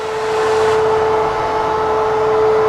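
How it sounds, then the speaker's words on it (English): A vacuum cleaner runs steadily while sucking up bed bugs along a surface, a loud continuous whine with a strong tonal hum and broad airy rush, close and unbroken with no talk. "Vacuum all along there."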